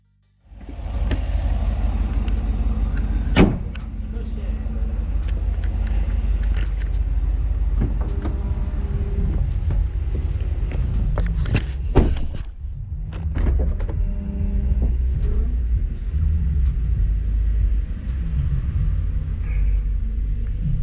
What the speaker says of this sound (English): now it's time to go for a test drive.